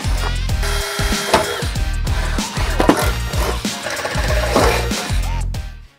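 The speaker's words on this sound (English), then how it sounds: "Okay, so we got our holes drilled." A power drill with stepped bits boring holes into the metal bed of a 2024 fourth-generation Toyota Tacoma, rhythmic whirring pulses and grinding bites in quick succession, close and loud, ending abruptly.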